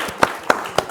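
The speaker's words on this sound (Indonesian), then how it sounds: "Tepuk tangan." Three evenly spaced hand claps ring out close and crisp in the TVRI Sumatera Selatan television studio, a brief, sparse round of applause.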